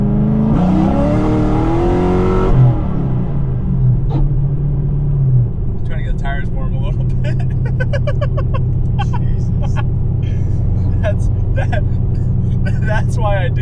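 A Camaro with a velocity stack engine revs loudly up close, then settles into a deep, continuous rumble while driving, with a person talking over it for much of the time.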